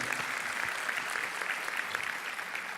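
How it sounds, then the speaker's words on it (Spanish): A church audience breaks into steady applause during a Spanish-language sermon, a dense, continuous wash of clapping with no speech, holding at an even level from start to finish. "le damos un aplauso"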